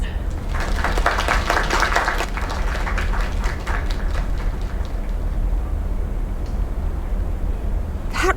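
Dense, steady crowd applause in a video game, many hands clapping at once, loud and continuous throughout, with a brief cheer near the end.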